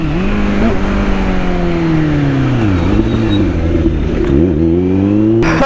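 A superbike engine revs hard under throttle, loud and close, its pitch climbing and dipping through several gear changes before a final rising surge.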